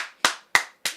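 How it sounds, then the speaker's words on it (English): Three sharp, evenly spaced hand claps ring out close and clear, each fading quickly into silence before the next. "I'm going to applaud that."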